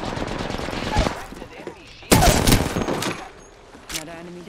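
Rapid bursts of automatic gunfire crackle in a first-person shooter game, a dense volley at the start and a louder burst midway, followed by scattered shots and game effects, with a player's voice talking over it.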